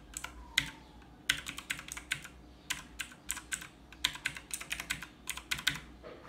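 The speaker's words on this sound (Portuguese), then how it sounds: "Então eu vou usar para vocês verem o somzinho dele, ó." Keys clack on a T-Dagger mechanical gaming keyboard in quick irregular bursts of sharp clicks, close and fairly quiet, with short pauses between runs of typing.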